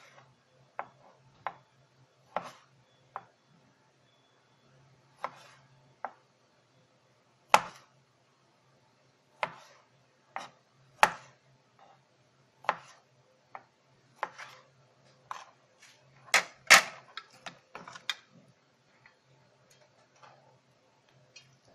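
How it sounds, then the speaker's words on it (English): A knife cuts tomatoes in half on a board, giving a string of separate sharp knocks at an irregular pace. The knocks bunch into a quicker flurry near the end and stand out against a quiet background. "Kakatang natin yan siya ng half."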